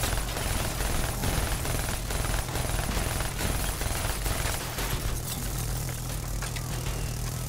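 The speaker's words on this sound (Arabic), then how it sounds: "في طيارة معانا اهي" An aircraft passes overhead in Call of Duty Black Ops 3 as a constant loud, low engine drone, with scattered gunfire cracks mixed into the din.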